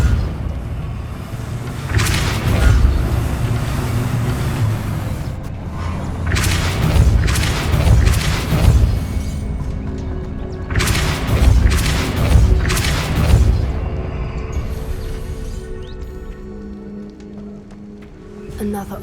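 The Depulso spell goes off in the video game Hogwarts Legacy with loud booming, thudding blasts repeated in bursts over a rumbling game background.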